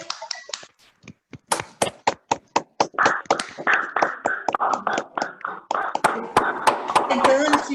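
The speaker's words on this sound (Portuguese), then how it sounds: "eu peço mais uma vez palmas aqui para o nosso querido palestrante" A small audience at a Spiritist centre talk claps for a young speaker, beginning as sparse, separate claps and thickening into fuller applause, with voices talking through it.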